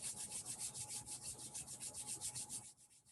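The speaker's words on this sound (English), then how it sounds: "Rubbing your hands together." Hands being rubbed briskly together during a t'ai chi and chi kung session: a close, rhythmic swishing of about a dozen quick even strokes that stops just before the end.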